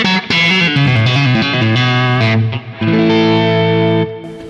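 Electric guitar through a Marshall Plexi amp on the neck pickup, crunchy and lightly distorted with reverb, plays a short melodic phrase of sustained notes up close, ending on a held ringing note.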